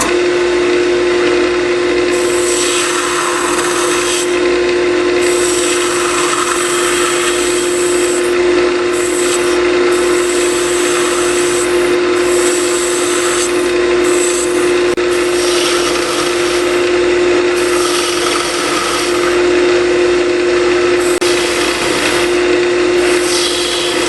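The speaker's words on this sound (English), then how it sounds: "we'll use our spindle gouge" A spindle gouge cuts a wooden Christmas ornament globe spinning on a lathe, giving a loud, steady, hissing whine that runs unbroken throughout, with a constant motor hum beneath and repeated rougher surges as the tool bites the wood.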